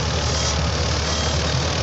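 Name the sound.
Farmtrac tractor engine running Agrizone super seeder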